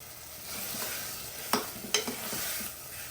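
Broad beans, potato and brinjal fry in a pan with a soft continuous sizzle, and two sharp stirring scrapes come partway through.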